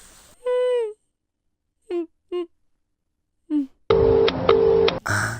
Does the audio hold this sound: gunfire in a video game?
no